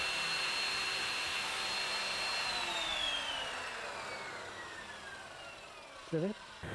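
A power saw whines steadily through a wet area wall panel, its tone slowly dropping as the cut proceeds, before a brief voice right at the end.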